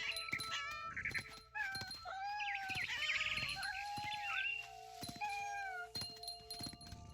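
A cat meows repeatedly in the video game What Remains of Edith Finch, drawn-out wavering cries close up and loud, one after another over a low background hum.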